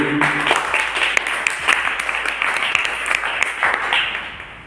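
An audience at a postgraduate sociology department speech competition at Mithila University claps in a moderately loud round of applause, with individual claps audible and a few voices under it.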